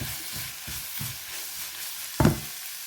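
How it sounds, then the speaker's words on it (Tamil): Freshly cut carrots sizzling in a hot pan as they are stirred, a steady frying hiss with soft rhythmic scraping strokes and a louder clatter near the end, close up and with no talking. "கரட்டை இப்போ தான் வெட்டினா அப்போ இப்போ போடுறேன் கரட்டும் அப்படியே வதங்கி வரட்டும்"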